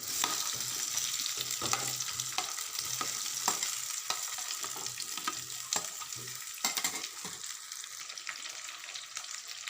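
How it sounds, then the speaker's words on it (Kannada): Mango pieces fry and get stirred in a pan, with steady sizzling and repeated scraping strokes of a spoon throughout, close and moderately loud. "ಚೆನ್ನಾಗಿ ಫ್ರೈ ಆದಮೇಲೆ ಮಾವಿನ ಹಣ್ಣನ್ನು ಇದಕ್ಕೆ ಹಾಕೋದು."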